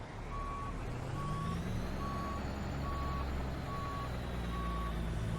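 A Peterbilt 377 hauling ice cream in American Truck Simulator backs up, its reversing alarm beeping six times at a steady pace over a low idling engine rumble.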